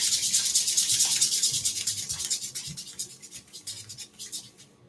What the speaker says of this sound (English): let's rub the soles of the feet and the palms of the hands